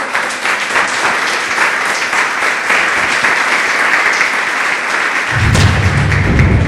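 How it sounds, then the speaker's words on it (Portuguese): A church congregation claps together in sustained, dense applause, loud and close, continuing without pause and ending with a low thumping swell near the end. "Uma vez mais, palmas para o nosso Deus."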